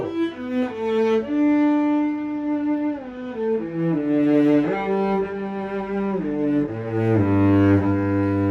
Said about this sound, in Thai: อันนี้คือเสียงธรรมชาติจที่ตัวเชลโล